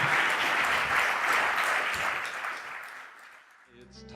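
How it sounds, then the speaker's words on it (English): Audience applause after a lecture at Beloit College, a full, steady round of clapping that fades away toward the end before a voice begins to speak. "So if we could give a round of applause"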